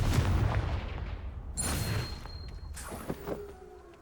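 The Confringo fire spell from the Hogwarts Legacy video game goes off as a booming blast followed by a second crack, with a high ringing tone and scattered impacts trailing off.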